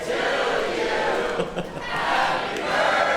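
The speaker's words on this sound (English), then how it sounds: "You can hear the crowd is going nuts." A large crowd at a robot combat tournament roars and chants in a dense, continuous wall of cheering and group singing, loud and sustained from a distance.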